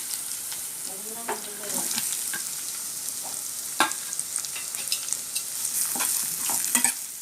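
Loud sizzling of curry leaves and onions frying in hot oil, with a spoon stirring and scraping through the pan in irregular bursts.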